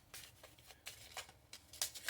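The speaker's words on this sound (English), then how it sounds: "I'm getting better at shuffling" Cards for a crystal tarot reading are shuffled by hand, giving several quick soft riffling bursts separated by short pauses, faint and close with no talking.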